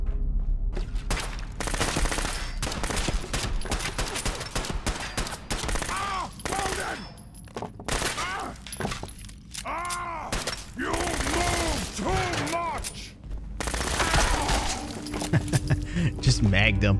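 Overlord gun firing rapidly in Fallout 4, dense bursts of fast automatic shots with gaps between them, loud and close, with someone talking over parts of it.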